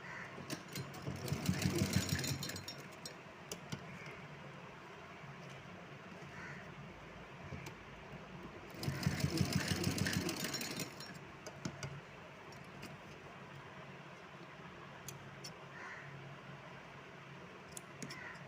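A sewing machine stitching small doll clothes runs in two loud whirring bursts with a quieter mechanical hum and faint ticking between them, close by, with no speech.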